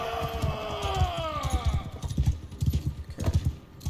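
Horse hooves clip-clopping in Mount & Blade II: Bannerlord, a steady run of close, rhythmic hoofbeats with faint other noise behind them.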